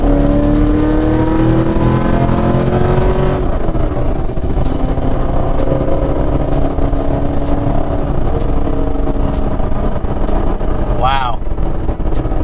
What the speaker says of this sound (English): Let's do a third gear pull here.